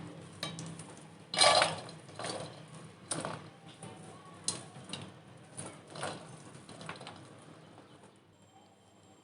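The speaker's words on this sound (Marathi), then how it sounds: "या भांड्यामध्ये आपण हे मक्याचे दाणे पूर्ण काढून घेणार आहोत." Fresh corn kernels being stripped from the cob into a bowl, heard as a series of close, irregular scrapes and light clatters with brief pauses between them, no talking.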